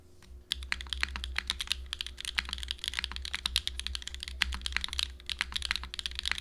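Rapid, continuous clacking of a mechanical keyboard being typed on, crisp and close, with a steady low hum beneath.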